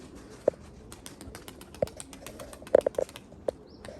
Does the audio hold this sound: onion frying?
no